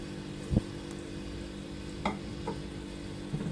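Fish cake and rice being fried together in a pan for Chinese-style fried rice, a low steady sizzle broken by a few scraping stirs, one louder clack near the start and lighter ones after.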